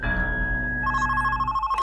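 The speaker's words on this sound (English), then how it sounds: "Phone is ringing." A telephone rings in the Monaco video game, a loud, steady electronic ring tone that shifts pitch partway through and cuts off with a brief burst of noise.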